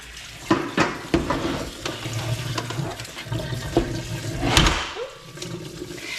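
Tap water runs and splashes into a kitchen sink as raw chicken wings are rinsed, with several clattering knocks of pans and dishes through a steady, fairly close wash of water.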